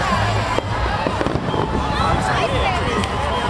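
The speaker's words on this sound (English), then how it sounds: "Do you love the fireworks?" Lord Mayor's fireworks over Chapelfield Gardens boom and crackle in a continuous dense barrage, with sharp bursts standing out, while a crowd murmurs and people talk nearby.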